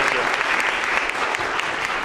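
An audience applauds to welcome a speaker at a lecture, with steady, full, close clapping from a crowd held evenly throughout.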